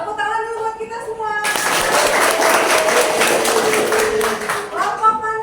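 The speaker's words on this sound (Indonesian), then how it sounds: "Tepuk tangan dulu buat kita semua" A classroom group breaks into loud applause that starts abruptly and goes on for about three seconds as a dense wash of claps, with voices talking before and after it.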